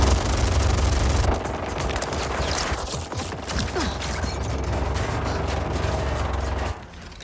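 Sustained gunfire from a gun in Mortal Kombat 11, a dense rattling barrage of shots running nearly continuously at steady loudness with a fuller opening burst, dropping away near the end.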